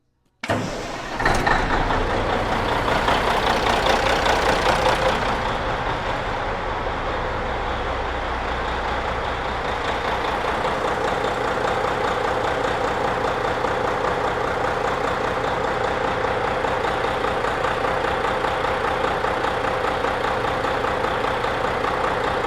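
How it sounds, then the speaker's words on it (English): A diesel truck engine cranks, starts and settles into a loud, steady idle that runs on unbroken, close by, with no talking. "Let me start this truck and let you listen to it."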